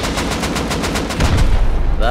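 Rapid automatic gunfire in the survival game Rust, aimed at a turret: a steady string of loud, evenly spaced shots for about two seconds, swelling into a heavier, denser burst near the end.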